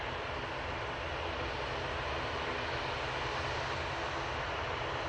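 Steady broadband roar of an Aer Lingus propeller airliner at Manchester Airport, a continuous, fairly loud engine drone holding level throughout with no voices.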